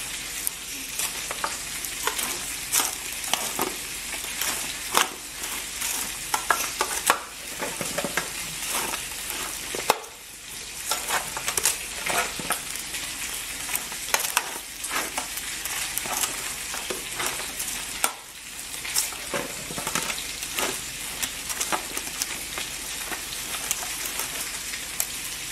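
Food being stirred in a pan for a freezer meal prep, a steady hiss of frying with scraping stir strokes running throughout, close and fairly loud with no talking.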